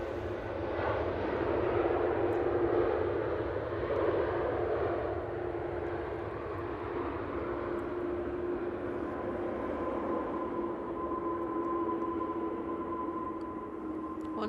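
A passenger airplane landing at Manchester Airport, its engine roar steady and fairly loud at first, then slowly fading and thinning into a long whining hum as it rolls out at a distance.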